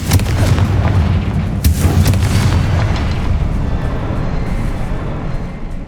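The Confringo blasting spell in Hogwarts Legacy detonates with a loud, close boom that opens sharply and then rolls into a long, heavy rumble fading slowly.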